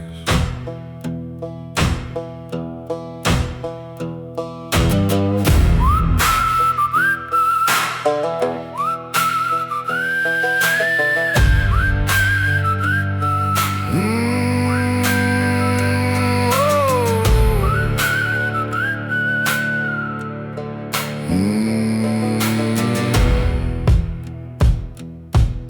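Melodic whistling in a dark country song, a bright sustained tune with gliding notes carried over thumping percussion and instrumental backing for the whole stretch, prominent and close.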